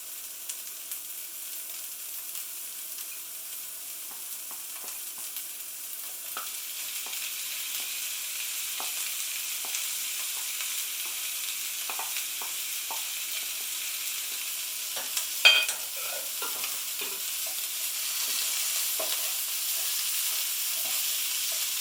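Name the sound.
carrots added and stir-fried in a pan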